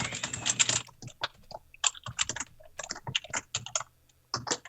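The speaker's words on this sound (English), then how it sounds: "For all you know, you can hear me typing away." Fast typing on a noisy computer keyboard during a late-night livestream, a close, uneven patter of sharp clicks in bursts with short pauses between them.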